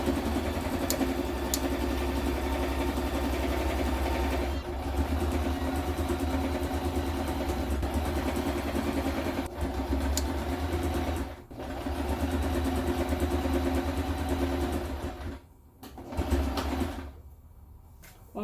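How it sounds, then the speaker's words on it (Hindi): A home sewing machine stitches fast, a steady loud motor drone with rapid needle rattle, running continuously with a few brief pauses near the end. "अब थोड़ा सा आपको आइडिया होगा कि ये फास्ट स्टिचिंग हो रही"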